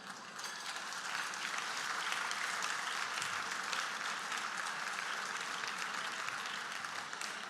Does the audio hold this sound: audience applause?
yes